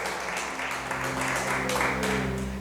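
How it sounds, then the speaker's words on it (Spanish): Church congregation applauding during a sermon, a dense, steady roll of clapping over a sustained low organ or keyboard hum. "Dale ese aplauso grande a nuestro amado Rey."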